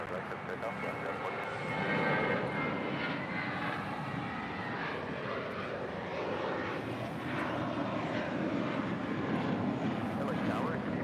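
Jet airliner rolling for takeoff on runway 25 right at LAX, a broad steady engine roar holding loud throughout with faint radio chatter underneath.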